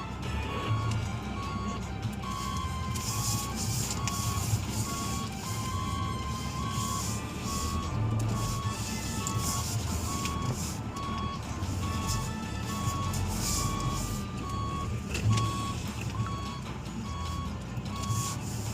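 A vehicle reverse-parks at an office while regular electronic reversing beeps repeat steadily over a low engine hum for the whole stretch, with no talk.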